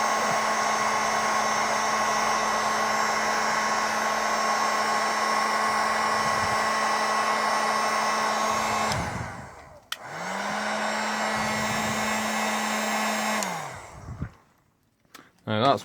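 A heat gun blows steadily while shrinking heat shrink tubing on the cable of a BMW i3 EVSE charger extension, a loud close whirring hum that cuts off, restarts for a few seconds, then stops, with handling noise at the end.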